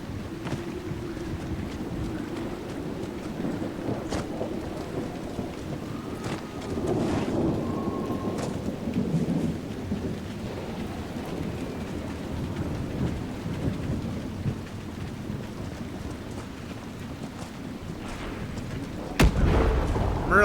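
Thunder rumbles and steady rain pour through a lightning storm in the Dragon Age: Inquisition video game, a continuous low roar with a sharper crack near the end.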